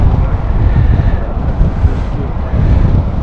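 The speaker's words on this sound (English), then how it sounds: "Really strong winds there." Strong crosswind buffeting a microphone at Stansted Airport, a loud, continuous, low roaring rumble with gusty swells that drowns out everything else.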